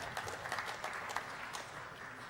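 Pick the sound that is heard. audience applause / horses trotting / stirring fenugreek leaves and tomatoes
audience applause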